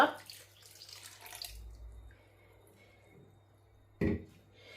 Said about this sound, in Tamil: இப்போ ரக்கிறதுக்கு ஒரு 5 நிமிஷத்துக்கு முன்னே நீங்கள் எடுத்து வச்சிருக்கிற இந்த முதலாம் பாலையில விட்டுக்கொள்ளுங்க